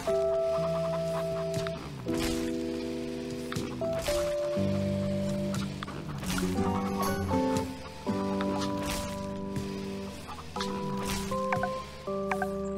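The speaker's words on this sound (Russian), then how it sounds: "О, курочки. Да сколько тут курочек." Chickens in the farming game Farm Together 2 cluck in short, repeated bursts over bright, melodic background music, scattered across the whole stretch at moderate volume.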